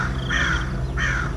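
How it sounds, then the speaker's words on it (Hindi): A crow caws loudly twice in quick succession, harsh and close, used as a sound effect in a Hindi horror story. "कौवा आया और जोर से कांव कांव चिल्लाया"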